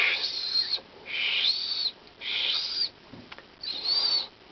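A person whistles in imitation of a bird call, producing four clear, close, high whistled phrases separated by short pauses, each sustained and gently rising, with no talking.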